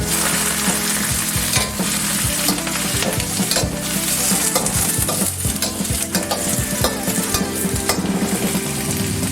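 Herbal bak kut teh ingredients are stirred in a hot pot, with loud continuous sizzling and frying under scraping strokes of a utensil against metal, dense and unbroken throughout.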